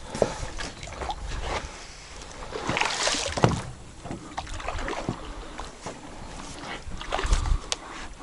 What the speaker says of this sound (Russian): Вон лодки тоже переправляются.